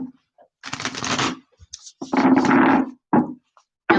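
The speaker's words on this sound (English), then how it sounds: "there's a couple more shuffles here" A deck of tarot cards is shuffled by hand in several close, crisp riffling bursts separated by short pauses.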